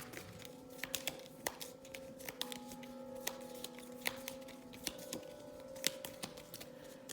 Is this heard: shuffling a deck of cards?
yes